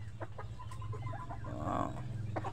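Backyard hens cluck in short, irregular bursts close by, with a steady low hum running underneath and a louder, drawn-out cackle near the end.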